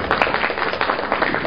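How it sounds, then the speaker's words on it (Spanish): Audience applause at a book presentation: a short, steady burst of clapping from a seated crowd, fairly even in level throughout. "Fuertes aplausos, por favor."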